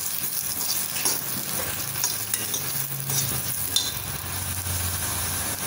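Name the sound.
onions frying in oil for egg kurma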